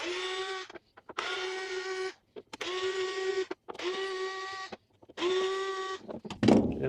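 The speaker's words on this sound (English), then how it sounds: "these 5 screws, 1, 2, 3, 4, 5, we take out to take this off. So we need a Phillips" Screws being backed out of a Honda dual-sport motorcycle's air box cover with a Phillips driver: five loud, steady, whining motor bursts, each about a second long, separated by short pauses, ending with a brief clatter.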